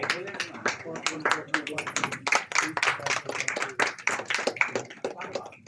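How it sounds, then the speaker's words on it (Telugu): Scattered clapping from an audience at a Telugu literary award function, sharp distinct claps in an irregular rhythm, close and fairly loud, with talk mixed in underneath. "అవసరమైనప్పుడు మనం మృదుమధురంగా చప్పట్లు శబ్దాన్ని ప్రయోగిద్దాము"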